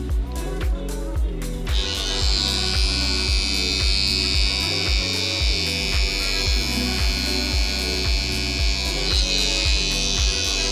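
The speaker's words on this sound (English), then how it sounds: "if I need to flip my trimmers around and create a little bit cleaner of a line" Electric hair trimmers buzz steadily and close as they clean up a neckline, a continuous high whine over a sharper rhythmic clicking pattern that runs for several seconds.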